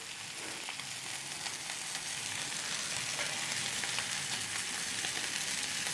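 Jack Daniels whiskey strip steak searing on a Blackstone griddle gives off a steady, close hiss and crackle of sizzling fat that holds evenly throughout, with no talking.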